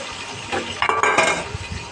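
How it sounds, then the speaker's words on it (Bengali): Potatoes with ginger, garlic and onion paste are stirred in a pan, a short burst of close scraping and clattering spoon strokes over a faint sizzle. "তো একটু নেড়ে চেড়ে দিলাম।"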